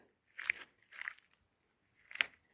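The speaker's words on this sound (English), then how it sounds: "I'm going to take a potato masher, crush the raspberries as best I can." Fresh raspberries crushed with a potato masher in a bowl for freezer jam make three separate wet, crunchy squishes, close and fairly quiet, with silence between each press.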